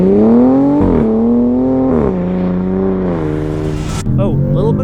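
A heavy Dodge car, about 4,850 pounds, its engine revving and accelerating hard with a loud rising then falling tone through several gear-like pulls, close and dominant.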